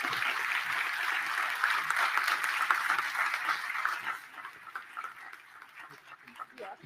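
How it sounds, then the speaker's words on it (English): Audience applause at a 2021 commencement ceremony, a broad wash of clapping that fades out over the last few seconds as a few voices come through. "Let's give Victoria another round of applause"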